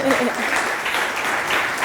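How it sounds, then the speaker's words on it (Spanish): Audience applause welcoming a panel speaker at a music legal event in Madrid, a short burst of dense clapping with a voice heard faintly over it. "Un aplauso para él."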